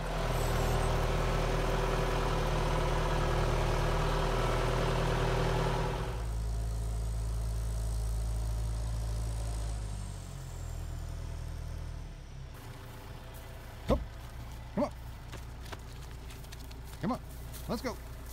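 A 6410 tractor with nothing attached sits idling, a loud, steady low engine rumble that eases to a quieter idle partway through, followed by a few sharp clunks near the end.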